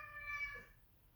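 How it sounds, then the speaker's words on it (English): A house cat lets out a single short meow, faint and tonal, over a quiet low background hum with no talking. "If you can hear that, it's one of my cats."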